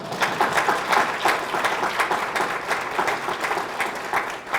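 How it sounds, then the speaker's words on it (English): Steady, dense applause from a seated audience at a 2022 housing summit, holding at a full, even level from start to finish with no voices rising above it. "now you can applaud."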